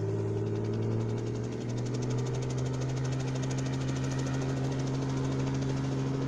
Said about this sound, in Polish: Robinson 44 po uruchomieniu pod hangarem.